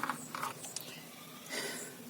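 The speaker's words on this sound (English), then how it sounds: "Can't imagine anybody doing this job without a torque wrench" A torque wrench tightens the cylinder head bolts on a 2003 Honda Accord V6 with helicoil inserts. Short ratcheting creaks and mechanical clicks come in brief bursts, close and alone.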